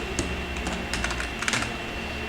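Someone types Java code on a computer keyboard, a close, steady patter of key clicks with a few brief louder clusters, heard alone without any talking.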